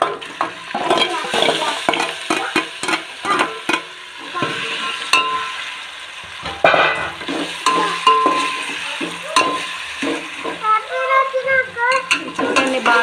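Marinated chicken dropped into a hot pan for chicken pulao and stirred, with irregular scraping and clanking of a spoon against the pan over a steady sizzle and occasional brief voices.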